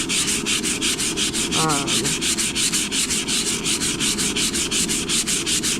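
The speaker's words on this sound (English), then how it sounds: "I'm just gonna get some 220 grit and just try to see how well this does" Wooden bellows being hand-sanded with 220 grit sandpaper, fast rhythmic back-and-forth rasping strokes, close and loud, continuing evenly throughout with no speech.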